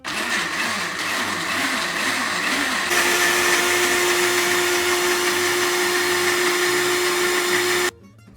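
Food processor or blender whirring loudly at close range, its motor steady for about eight seconds with a shift in pitch partway through, then cutting off abruptly.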